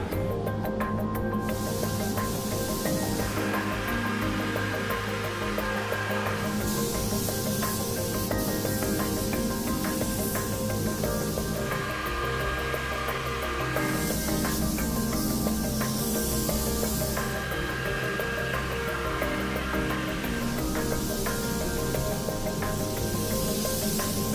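Spray gun laying a top coat of paint on a Jaguar XKSS body during restoration, a loud continuous hiss in repeated passes of several seconds each, separated by short pauses.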